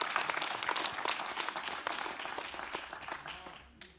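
Energetic congregational clapping in a church service, dense overlapping claps with a few sharp individual strikes, loud at first and tapering off over the last second.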